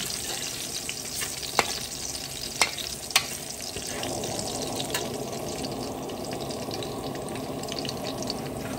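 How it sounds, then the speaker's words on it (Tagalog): Garlic sautés in a hot pan, a steady loud sizzle and crackle of frying oil with a few sharp clinks of a utensil against the pan, no talking. "gisa na po ako ng bawang. Ayan, anuhin po natin siya ng brown pa."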